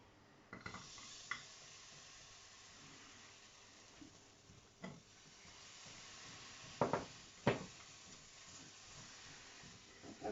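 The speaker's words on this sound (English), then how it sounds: "I'll fry these off." Lamb pieces fry in a pan for a lamb pesto bake, giving a steady low sizzle and hiss with a few louder knocks and scrapes of stirring.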